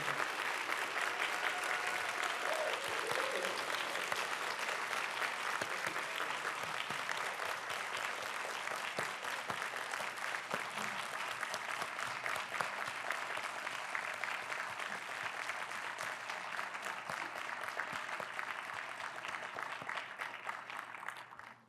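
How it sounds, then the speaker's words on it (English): A luncheon crowd at a leadership awards event gives a long, sustained round of applause, dense and even, continuing for over twenty seconds at a moderate, somewhat distant level. "please give a round of applause for the 2023 changemakers"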